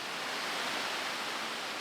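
The waterfall at the top of the Catawba River falls gives a steady, broad rush of falling water, even and unbroken, moderately distant and fairly faint, with no voices.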